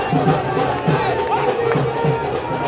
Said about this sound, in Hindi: अच्छी खासी भीड़ और जोशीली भीड़ के साथ कन्हैया कुमार अपना रोड शो निकाल रहे हैं।